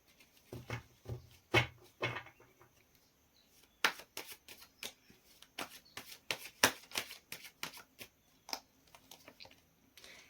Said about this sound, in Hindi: मैं जैसे शफल कर रही हूँ एक ना एक कार्ड नीचे गिर जा रहा है